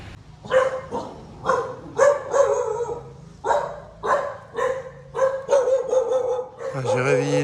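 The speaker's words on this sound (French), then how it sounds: "Ah, j'ai réveillé les chiens." Several dogs bark repeatedly in loud, close bursts at a Khmer temple pagoda near Tra Vinh, Vietnam, the barks coming in an irregular run with brief gaps and a whining yelp at the end.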